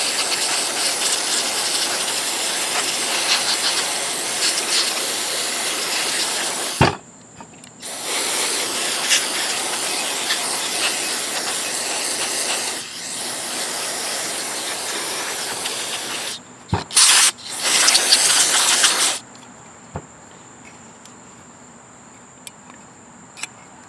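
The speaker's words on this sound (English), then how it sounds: "I'm going to just use some carbon choke cleaner and clean off some of this built up dirt and debris." Several long bursts of aerosol carb and choke cleaner hissing onto the dirty carburetor of a Honda Harmony lawn mower, close and loud, broken by short pauses and a few clicks.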